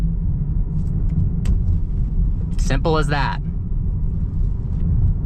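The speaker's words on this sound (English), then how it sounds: "There's less road noise too." Steady low road and tyre rumble inside a Tesla Model 3 Performance while driving, constant throughout with a brief spoken phrase partway through.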